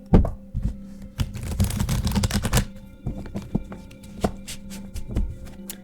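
A new deck of cards being shuffled, with crisp riffling bursts and scattered sharp taps and flicks of the cards, close and fairly quiet, no talking.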